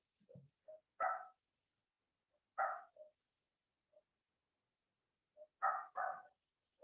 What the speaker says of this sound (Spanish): No sé si se escuchan los perros afuera.